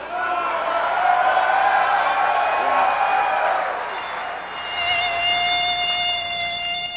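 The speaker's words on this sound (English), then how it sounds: "That's one of those dang Wisconsin mosquitoes." A mosquito whines steadily for the whole stretch, loud and close, its high buzz wavering in pitch, with a faint crowd murmur and scattered applause underneath.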